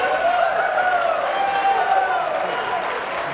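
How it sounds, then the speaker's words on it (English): Applause from European fans fills a pool arena after a cut shot at the Mosconi Cup, a steady, even wash of clapping from a large crowd heard from a distance, with a commentator's voice over it. "some applause from all the European fans in attendance here"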